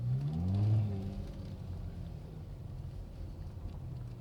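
A 2019 Chrysler 300S fitted with a Pedal Commander PC31 throttle controller pulls away under light throttle, a low engine drone swelling briefly then settling into a steady rumble with road and wind noise.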